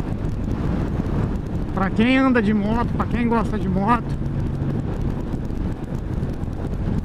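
Strong wind buffets a microphone at the end of a motorcycle trip along the BR-101 highway, a constant loud low roar under a voice that speaks briefly in the middle.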